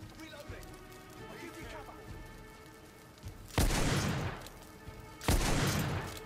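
Two heavy, booming gunshots from The Order 1886 land a couple of seconds apart, each a loud blast with a trailing decay, over quieter game ambience with a voice talking faintly in the background.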